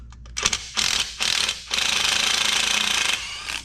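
Bolts with blue Loctite being loosened from a Stihl 400 chainsaw, a close rattling mechanical whir in several bursts, the last one long and sustained, like a cordless impact driver or ratchet.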